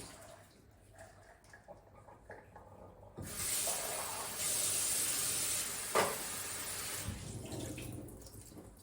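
Cooked black beans drained in a kitchen sink, a quiet room suddenly giving way to a steady, hissing rush of running water that continues near and fairly loud until the end.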